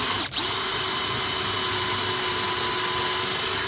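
A power drill whines at a steady high pitch, running continuously and loud up close after a brief dip at the start.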